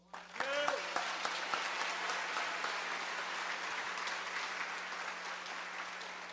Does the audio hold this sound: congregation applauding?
yes